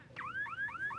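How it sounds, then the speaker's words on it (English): Electronic buzzer at the top of a climbing wall at the PSP Chicago Open paintball event: four rising warbling chirps in quick succession, clear and alone with no voices. "That buzzer means you made it to the top of the wall"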